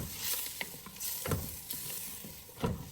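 Tomato puree fries over a high flame while being stirred, a soft continuous sizzle broken by occasional scraping strokes, close but fairly quiet.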